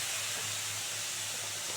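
Masala with turmeric sizzles in a hot pan just after a splash of water goes in, giving a steady, even hiss that holds for the whole short moment with no talking.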